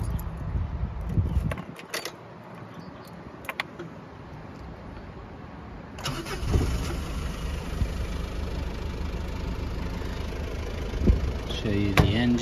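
A 1995 Mazda Bongo Friendee 4WD Japanese campervan, engine mounted under the front seats, cranks briefly and catches, then settles into a steady, smooth low idle heard up close, with a person speaking over it.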